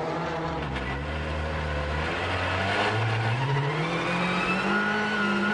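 Dani Sordo's Citroën rally car at the 2013 Monte Carlo Rally, its engine revving hard and rising through gears, a loud continuous snarl with shifting pitch as it accelerates along the stage.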